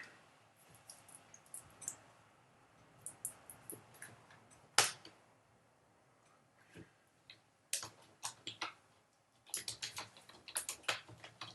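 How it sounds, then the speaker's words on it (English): Loud computer keyboard clacking like an old typewriter, irregular bursts of sharp keystrokes with pauses between, close and alone with no talk. "this keyboard is like an old typewriter"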